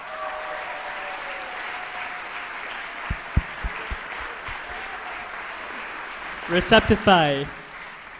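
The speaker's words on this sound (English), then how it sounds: "Can we please have a round of applause for Team" A live audience at a business pitch competition bursts into brief applause for an award-winning team, a short loud burst of clapping near the end following an announcer's voice and a few scattered thumps.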